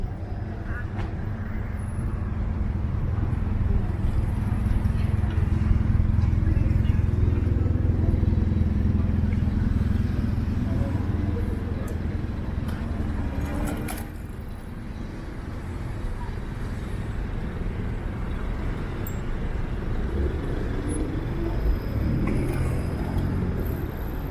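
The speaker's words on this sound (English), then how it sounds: "And cars right in the crosswalk, of course." Cars roll past a downtown Toronto crosswalk in steady city traffic, a continuous close engine and tire rumble that swells mid-way and then eases, with street ambience throughout.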